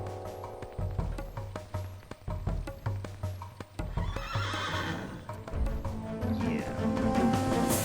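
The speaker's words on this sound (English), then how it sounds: "Please don't get on the horse and start attacking." A horse in the Tomb Raider 4 Remastered video game gives loud, repeated whinnies over rhythmic clip-clopping hooves, close and prominent, with game sounds building toward the end.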